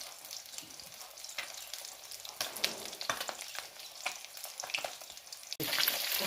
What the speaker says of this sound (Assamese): আৰু এতিয়া মই মাছখিনি ভাজি ল'ম।